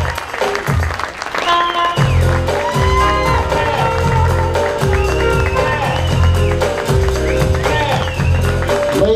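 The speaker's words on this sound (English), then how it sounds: "Let's have a nice round of applause," Guests at a wedding applaud the bridal party's entrance, a dense and steady round of clapping with cheers over loud rhythmic music with a heavy beat, lasting several seconds.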